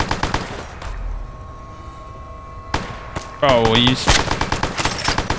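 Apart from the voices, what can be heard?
gunfire in Fallout New Vegas video game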